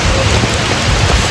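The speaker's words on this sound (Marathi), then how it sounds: "पाऊस आला फिरता फिरता" Steady, loud rain hissing down over a surface in Goa, a dense continuous wash of drops close by.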